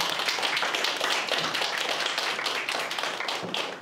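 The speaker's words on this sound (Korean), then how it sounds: "박수로 맞아주십시오" Audience in a full auditorium at a televised talk event, applauding to welcome a young speaker onto the stage, with dense, sustained clapping from many hands that fills the room without pause.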